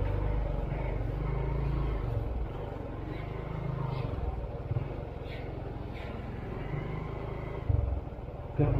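A motorcycle's engine rumbles low and steady at a busy market parking area in Jambi, lasting throughout with slight swells, while people talk nearby.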